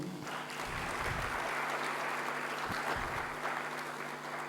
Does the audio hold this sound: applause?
yes